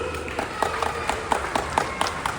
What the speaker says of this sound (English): let me hear you applaud on the count of 3